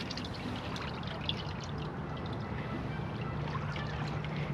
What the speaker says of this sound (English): Just looking at this water flowing.